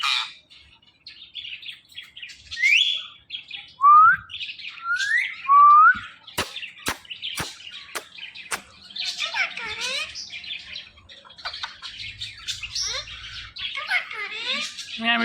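A pet talking parrot chirps and whistles up close, giving rising and sliding whistles, sharp clicks and bursts of chattery calls with short silent gaps between them.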